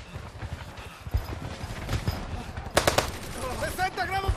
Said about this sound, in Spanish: Además de ametralladoras, ahora también tenían morteros.